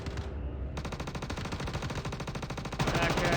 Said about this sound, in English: there's a firefight underway